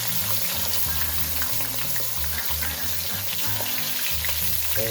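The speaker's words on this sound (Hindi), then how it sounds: "ऑयल हमारा गर्म हो चुका है। अब हम इसके अंदर डालेंगे प्याज।" Finely chopped, washed onions sizzling and frying steadily in hot oil in a kadai (wok) for a masala fish curry, a loud, continuous crackling hiss with no talking.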